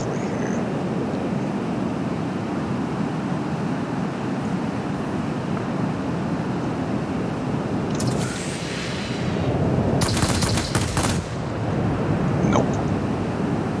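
A warplane in World of Warplanes drones steadily as rockets launch in two sharp, bright bursts of roaring whoosh partway through, loud over the continuous engine noise.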